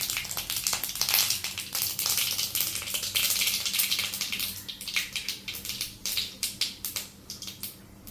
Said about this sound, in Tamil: எண்ணெய் காய்ஞ்சிருச்சு கடுகு நல்லா பொரியணும்